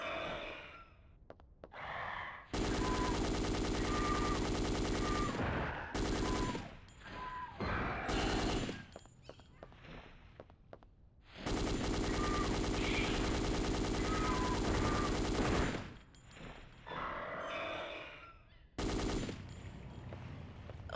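A heavy machine gun fires in Dino Crisis 2 in long, sustained loud bursts, several separate volleys broken by short pauses, with faint breathy sounds in between.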